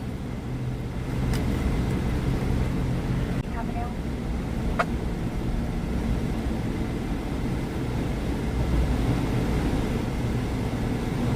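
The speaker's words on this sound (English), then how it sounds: "somebody's transmission sounds like shot" A truck with a shot transmission drives on the road ahead, heard from inside a following vehicle as a steady, loud low engine and road rumble that persists throughout, with a couple of faint clicks.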